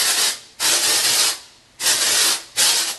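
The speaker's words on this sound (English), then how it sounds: "Now I'm gonna do texturizing spray and hairspray." Texturizing spray and hairspray sprayed onto hair in three bursts: a long loud hiss, a short pause, a second long hiss, then a shorter final blast, all close up with no talking.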